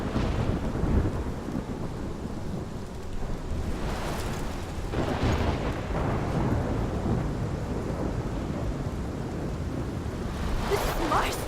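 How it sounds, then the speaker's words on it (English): Thunderstorm rolling toward Arcadia Bay in the game Life is Strange: a steady loud roar of rain and wind with deep rumbling thunder, swelling in bursts around the middle and again near the end, with faint voices mixed in. "Chloe and Max see the storm edging closer to Arcadia Bay"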